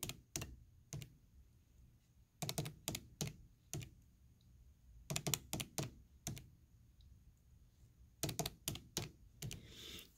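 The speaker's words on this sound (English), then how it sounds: "You can hear my fingers clicking." Fingers tap a computer keyboard in quick bursts of close, crisp clicks separated by short quiet pauses, entering numbers in a quiet room.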